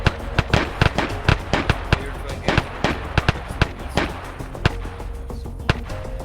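Gunfire from enemy paramilitaries in a military video game rattles out as many sharp, loud cracks in irregular bursts, some close and some more distant, with a voice talking faintly beneath the shots.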